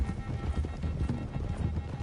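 Horse hooves clip-clopping at a run in a Western video game, a steady rapid beat played loud over game sound with a faint voice.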